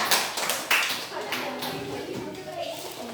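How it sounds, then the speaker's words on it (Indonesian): A classroom of students clapping for a group during a lesson, a burst of sharp hand claps that soon thins into scattered taps, with children's voices chattering underneath. "Boleh tepuk tangan?"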